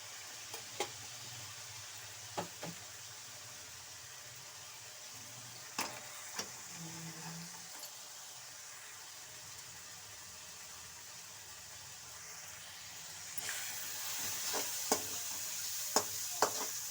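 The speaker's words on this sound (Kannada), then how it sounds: "ಎಣ್ಣೆಯಲ್ಲಿ ಚೆನ್ನಾಗಿ ಫ್ರೈ ಮಾಡಿ." Garam masala and chili powder frying in oil for a Mysore-style brinjal gravy: a faint, steady sizzling hiss with sparse clicks of a spoon stirring, growing slightly louder near the end.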